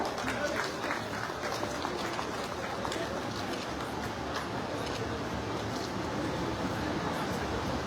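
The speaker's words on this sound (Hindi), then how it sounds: "आप सबकी ओर से जोरदार तालियां हो।" Dense, steady applause from a large audience at a court building inauguration ceremony in Chakradharpur, India, continuous clapping at a moderate level throughout with a faint crowd murmur.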